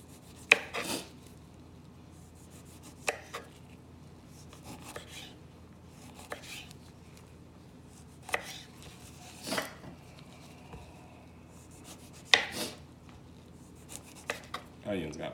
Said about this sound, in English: Next, we'll go ahead and cut up some limes.